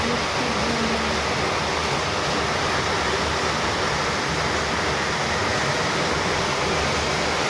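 Steady heavy rain pouring down outdoors, a dense continuous hiss that stays loud and even throughout with no voices.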